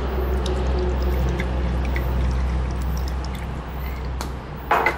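Green-cap seasoning sauce pours onto raw pork ribs in a steady, soft liquid stream over a low background hum, close by, ending with a few small clinks.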